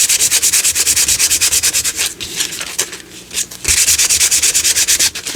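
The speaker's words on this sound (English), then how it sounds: "If you don't like the sound of the sandpaper, I apologize." Sandpaper rubs against a surface in quick, rhythmic back-and-forth strokes, loud and close, with a short slower patch in the middle before the fast strokes resume.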